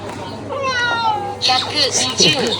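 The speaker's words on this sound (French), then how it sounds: "quand je scanne mes trucs à la borne, ça fait un bruit de chat" A self-checkout scanner in a shop plays a cat-meow sound effect as items are scanned: a short, mewing electronic cry that rises and falls, with people talking over and around it.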